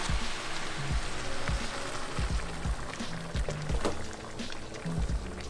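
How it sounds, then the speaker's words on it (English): Boiled water is poured onto quinoa in a pot or bowl, a continuous splashing, bubbling flow heard up close with faint rhythmic clunks underneath. "And now you just add a bunch of boiled water."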